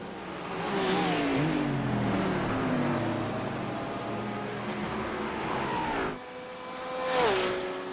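A race car in an amateur endurance race at Road America roars on the throttle, its engine note climbing steadily through the gears, then cutting off briefly before surging back with another loud, rising rev.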